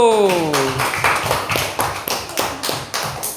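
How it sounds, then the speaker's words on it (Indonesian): A class of students claps for a group of classmates in a quick, even rhythm, the claps fairly close and steady beneath a voice that speaks at the start. "Tepuk tangan dulu untuk kelompok satu."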